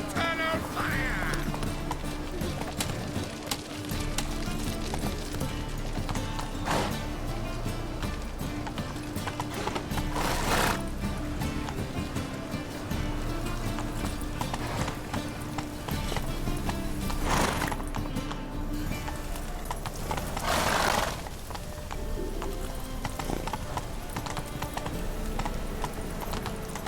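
Roach the horse galloping in The Witcher 3 video game, rapid rhythmic hoofbeats over a game soundscape with occasional whinnies and snorts, steady and mid-distance.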